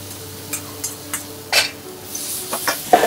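Vegetables tossed in a hot stir fry pan with garlic, giving a soft hiss broken by several brief clattering scrapes and toss noises, close and fairly quiet.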